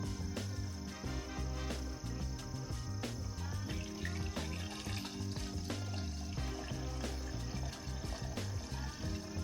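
Diesel mixed with about a gallon of water pours steadily through a Mr Funnel fuel filter funnel into a canister, a close, continuous trickling and splashing stream with no talk.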